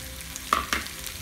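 Chopped carrots for a chutney sauté in a pan with a soft, constant sizzle, broken by two quick scraping stirs close by.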